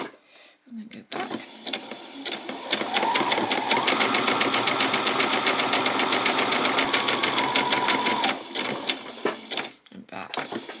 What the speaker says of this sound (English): we're just going to do a zigzag down there